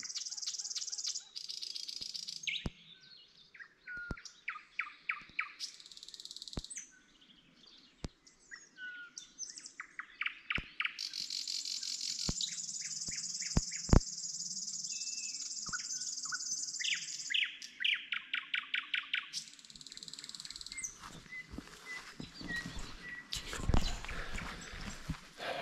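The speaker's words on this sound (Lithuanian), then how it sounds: "Paklausykit, kaip lakštingala čiulba." Nightingale singing outdoors at night in Gaujiena park: varied phrases of rapid clicks, sharp repeated notes and long whistles, close and clear against quiet surroundings, with an insect-like trill between phrases.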